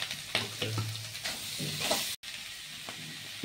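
Potatoes and cauliflower with cumin seeds, panch phoron and chilli fry in a pan, giving a steady close sizzle and hiss with scraping stirs, broken by a brief dropout midway.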